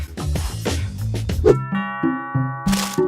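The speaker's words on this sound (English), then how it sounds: "Some birds get very nervous when they hear a doorbell." A doorbell chimes a ding-dong, followed by a few more ringing tones in quick succession, clear and close.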